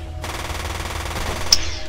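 Minigun firing in the 2006 video game Yakuza Revenge, a dense rapid rattle of shots in one sustained burst lasting under two seconds.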